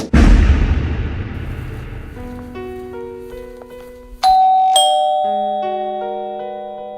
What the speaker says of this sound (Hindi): ये बात उस दरवाजे की घंटी से शुरू हुई थी